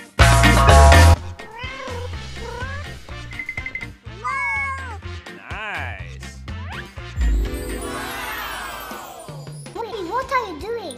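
A cat meows repeatedly amid a busy, chopped-up mix of sounds, its calls rising and falling over a loud burst at the start and other clipped noises throughout.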